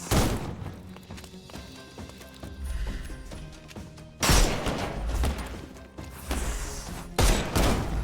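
Gunshots from the Sherlock Holmes Chapter One video game: a few loud, sharp blasts, a big one near the middle and another toward the end, over a busy game soundtrack.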